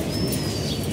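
Pigeons coo in a dense, continuous burble, loud and close inside a busy loft with a constant noisy backdrop.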